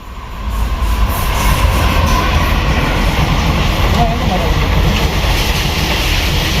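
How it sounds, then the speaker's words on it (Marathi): A fast train rushes past nearby in a loud, continuous roar of wheels and wagons that holds steady throughout, with voices faintly mixed in. "अशी जाते स्पीडनं श्रेयू ट्रेन कसला आवाज येतो ना भारी"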